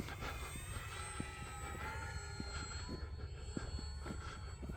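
A P-51 Mustang piston-engine fighter flies past on a winter day, its broad steady engine drone loud and continuous throughout, with faint rhythmic ticks beneath and no talk.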